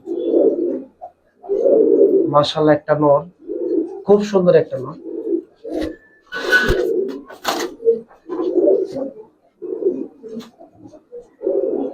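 Giribaz pigeons, including a male, coo in repeated soft bursts close by, interleaved with someone talking.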